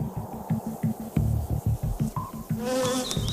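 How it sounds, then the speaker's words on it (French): A close, steady insect buzzing with a pulsing, throbbing drone, like many bees around a hive; a brighter, higher whine joins near the end. "le toucher, l'odeur et les sons que produisent les abeilles m'apaisent"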